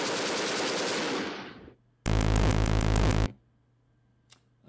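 A tank's coaxial machine gun fires a dense, rapid burst of about a second in the Armoured Commander II game, loud and close. A longer roaring burst precedes it, and faint clicks follow. No one talks.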